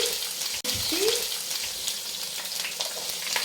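Green chilies frying in a pan, a steady close sizzle and crackle with a brief stir or scrape near the start, continuous and alone without voices.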